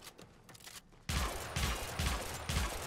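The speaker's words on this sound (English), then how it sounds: "we're going to show it on a level 145 heavy gunner from the pillar here" Sybaris Prime rifle shots fire in a video game at a heavy gunner, about four heavy paired bursts in steady rhythm after a quieter opening second, loud and close.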